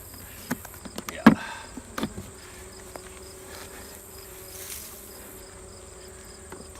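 Honey bees buzzing around an opened hive, a soft steady hum with a few close, brief passes and light clicks of hive handling.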